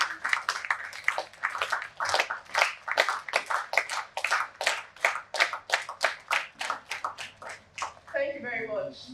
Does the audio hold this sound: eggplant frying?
no